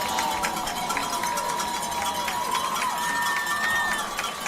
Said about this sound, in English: Everyone here can listen in to this home crowd.